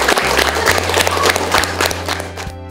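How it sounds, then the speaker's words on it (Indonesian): Children clap together in a classroom, a brisk burst of loud, close applause with sharp hand claps that keeps going steadily before fading near the end. "Tepuk tangannya mana?"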